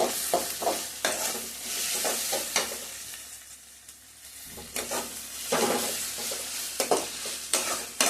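Two green chillies fry in hot oil for an egg gravy, a constant sizzle with repeated scraping stirs of a spoon against the pan, briefly quieting midway before stirring resumes.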